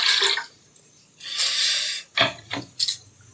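Four cups of water poured into a cooking vessel for a bhog offering: a few short, close splashing pours separated by brief pauses.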